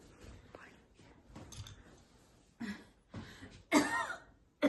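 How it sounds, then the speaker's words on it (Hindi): A person with a week-long cough and fever, in a tuberculosis context, coughs in a few sharp, harsh bursts that grow louder toward the end, after a stretch of quiet low murmuring. "इतनी खांसी क्यों लगी?"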